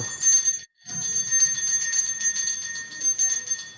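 A ringing bell sustains steady high tones throughout, with a brief dropout near the start and a soft low rumble beneath.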